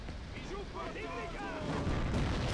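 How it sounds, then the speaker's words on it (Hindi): Rapid bomb blasts and artillery-like booms fill a Hindi-language action video game scene, a dense continuous barrage of explosions with game audio throughout and no clear pause. "पहले इधर थोड़े से बम फेंक देते हैं।"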